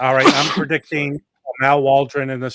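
A single sneeze bursts out near the start, close and loud, before talk resumes.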